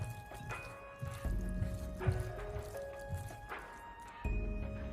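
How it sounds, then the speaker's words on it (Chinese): A hand kneads sliced pork with dark soy sauce in a bowl, giving close, wet squelching and squishing sounds in irregular bursts, with brief quiet pauses between strokes. "继续的用手搅拌一下，将里面的老抽搅拌均匀"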